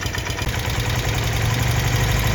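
A carbureted BMW engine being held near 4,000 RPM gives a loud, steady mechanical drone with a faint rhythmic pulse, and there is no talk over it.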